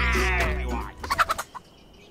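Rapid gobbling, clucking bird calls from a chicken in the Pixel Piracy game, starting loud and harmonic, then a quick run of short bursts that fades out.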